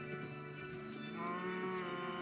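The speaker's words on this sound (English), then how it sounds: "Cow, cow." A cow lows in a farming video game, one drawn-out mooing call heard clearly over steady background game music, with no talk.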